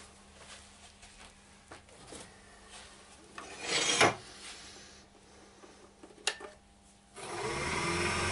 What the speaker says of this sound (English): Just sanded that little bit in there and just round this edge with the Abranet